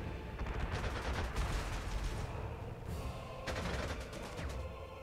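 Aircraft strafing gunfire in the strategy game Panzer Corps 2, faint and continuous, with rattling bursts of machine-gun fire over a steady low rumble of battle ambience.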